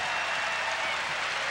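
A basketball arena crowd cheers and applauds at a women's college game, UConn against Iowa, a brief, dense, steady burst of noise with no distinct voices.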